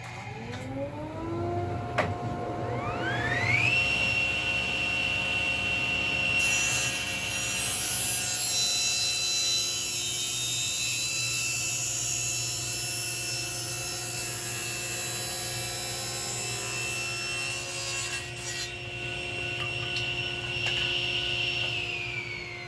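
A table saw spins up and rips narrow wood boards while a dust collector runs, giving a steady loud whine with rising pitch at start-up, a sustained cutting drone, then winding down near the end, with no talk.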